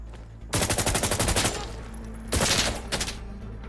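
Rapid automatic gunfire in the shooter game Insurgency Sandstorm: a long burst of loud, closely spaced shots, a short lull, then a second heavy burst followed by scattered single shots.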